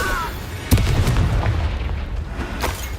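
Confringo blasting spell in the Hogwarts Legacy game: a heavy booming explosion hits suddenly and rolls into a dense, rumbling tail, loud and close, set against a layer of game background sound.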